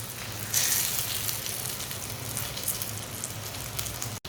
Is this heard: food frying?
yes